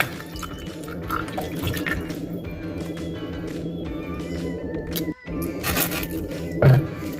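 Tap water runs steadily while a raw chicken is washed by hand, with small drips, splashes and scrapes over a constant liquid hiss and a brief pause near the end.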